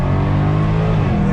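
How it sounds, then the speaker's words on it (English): Jaguar F-Type SVR engine in manual shift mode on its 8-speed gearbox, revving hard under throttle with a steady, loud, close growl and no break in the sound. "On throttle, here we go."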